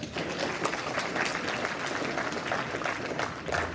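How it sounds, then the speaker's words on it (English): Audience at a school media red carpet gala gives a steady round of applause, a dense continuous patter of many hands clapping at moderate volume with no talk over it. "Let's give Kimberly another round of applause."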